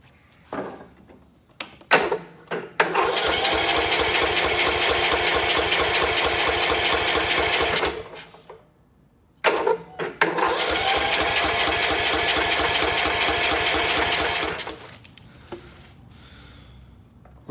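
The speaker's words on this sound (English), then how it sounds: "We'll try to start the engine now." A Kohler Courage 20hp engine on a Cub Cadet LTX1045 riding mower cranks over in two long, loud bursts of rapid, even churning, each lasting about five seconds, with brief clicks and clunks before and between the attempts.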